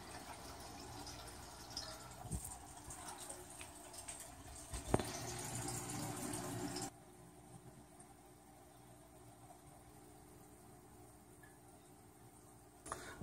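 Water draining out of a home fish tank during a water change, a steady low wash and trickle that runs on for several seconds, then drops to a quieter, fainter flow.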